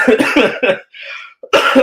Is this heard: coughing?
yes